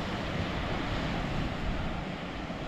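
Storm-churned sea waves rolling onto an Odessa beach make a loud, steady roar of surf with wind buffeting the microphone, with no voices and no break in the noise.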